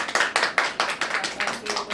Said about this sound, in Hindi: एक बार मैं चाहती हूँ 2 तालियां करके